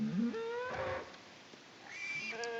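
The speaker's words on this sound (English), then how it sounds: "I heard cattle right here." Cattle on a farm moo in drawn-out, tonal calls: one at the start that bends upward, then a second long moo near the end, moderately distant and fairly quiet over faint outdoor background noise.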